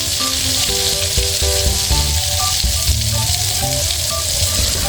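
Flour-battered squid rings deep-fry in hot oil for crispy fried squid, giving a loud, steady, close sizzle and hiss that fills the whole stretch without pause, with no voices.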